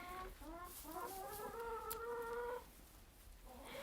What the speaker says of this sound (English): So we have a couple of hens in here sitting on eggs.